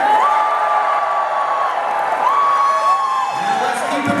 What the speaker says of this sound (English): where's my round of applause for Michael Tabor, aka Riley, the Green Ranger?